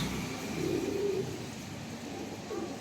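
A pigeon coos in low, soft rolling notes against a steady background hum, one longer coo in the middle followed by a shorter one near the end.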